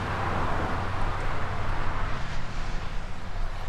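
Cars pass on a road in a very quiet rural area, a steady low broadband roar of tire noise that swells gently mid-clip, moderately near and with no voices.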